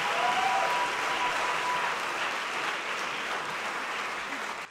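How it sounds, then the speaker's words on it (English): A crowd at an honor band clinic concert gives sustained, dense applause for the student groups, a loud, even roar of clapping that holds steady and tapers slightly at the end. "Let's have one more big round of applause for all the groups that have played today."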